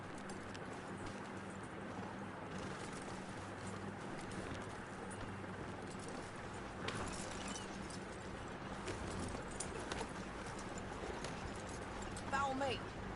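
Steady horse hoofbeats clip-clop at a running pace in the video game Red Dead Redemption 2 over a constant background bed, with a few faint extra clatters near the end.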